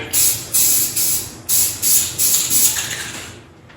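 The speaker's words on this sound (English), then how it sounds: "Spray your paint." A spray paint can is sprayed in a series of short bursts of hissing, about seven in a row with brief gaps between them. The last burst tails off into quiet. The spray is used while painting kitchen counters.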